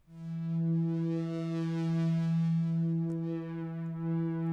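Synth pad from the free Dark Matters plugin, a steady sustained tone with a strong low fundamental and rich harmonics, playing alone at moderate level without voices.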